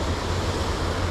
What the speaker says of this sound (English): The waves are bigger too.